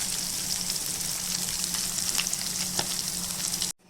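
Prawns fry in hot oil for a spicy prawn fry, a steady close sizzle and crackle with faint stirring, running continuously before cutting off abruptly at the end.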